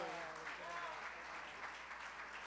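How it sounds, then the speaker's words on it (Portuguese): A festival audience at a radio-sponsored music award concert applauds a performer with a continuous wash of clapping. It is fairly faint and distant, and a voice speaks briefly at the start. "Mais palmas,"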